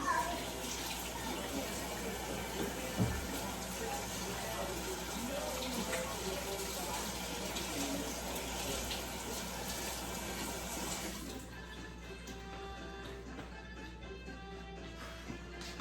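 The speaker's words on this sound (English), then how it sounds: "Let me go wash my hands." Tap water runs steadily into a kitchen sink while hands are washed, a continuous close splashing rush that stops abruptly near the end, leaving quieter room sound.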